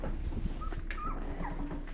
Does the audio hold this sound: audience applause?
no